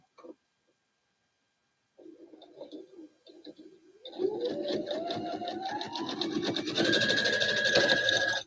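Sewing machine running a twin needle through thick garden-liner fabric, starting after a few short bursts and then a steady buzzing whir that rises slightly in pitch and gets louder toward the end.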